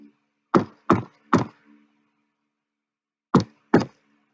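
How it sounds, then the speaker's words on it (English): Knocking on a wooden front door in a secret pattern: three quick taps, a pause of nearly two seconds, then two more taps, close and crisp with no talk. "She tapped 3 times on the door, waited a moment, and then tapped 2 more times."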